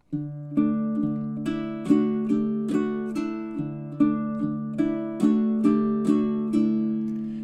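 Baritone ukulele shifts between fingerpicked notes and strummed chords in a beginner two-chord song, steady plucks over ringing chords with periodic brighter strums, close and unaccompanied with no talking.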